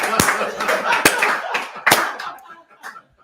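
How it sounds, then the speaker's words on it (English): A single person gives a slow clap: three or four sharp, deliberate hand claps spaced nearly a second apart, heard close up with faint room sounds around them. "I give me slow clap on that one."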